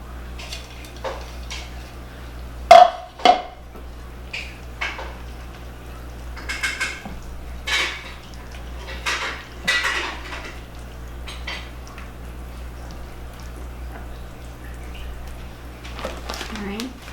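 Pecans tipped into German chocolate cake frosting in a pot give one sharp clatter early on, followed by softer clinks and scraping of utensils while someone talks nearby.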